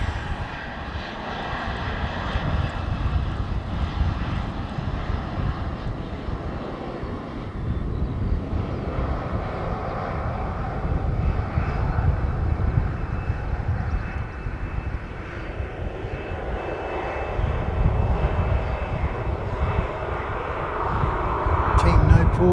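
A Qantas airliner passes with a loud, sustained engine roar that swells toward the end, with voices present in the clip.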